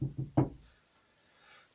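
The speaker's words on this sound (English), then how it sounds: "There was a knock on the door." Three hollow knocks on a wooden door land in a quick cluster, the last one loudest, then quiet follows with a faint high hiss.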